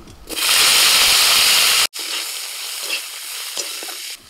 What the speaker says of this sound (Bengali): কড়াই তেল দিয়ে দিয়েছি, তেলটা গরম হয়ে গেছে,